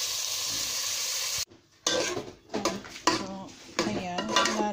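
Coconut milk simmers with crab, squash and string beans in a pan: a steady hiss, a brief quiet, then clattering stirring and sizzling bursts up close.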